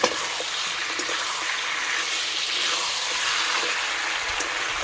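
Chicken and potatoes being stir-fried into kosha in a pan give a steady, close sizzle and hiss that holds evenly throughout, with faint scrapes of stirring and no talking.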